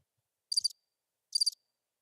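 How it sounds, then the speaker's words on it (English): A cricket chirping sound effect: two short, high trilling chirps, evenly spaced and isolated against silence. "Crickets."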